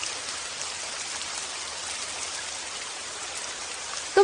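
Rain falls steadily outdoors, a soft continuous hiss of drops hitting surfaces at moderate volume, with no voices and a brief thump at the very end.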